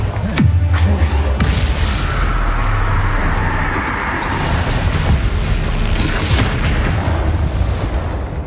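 A Bombarda explosion spell going off in Hogwarts Legacy, one deep booming blast near the start followed by a long rumbling, windy roar of combat noise that fills the rest of the clip.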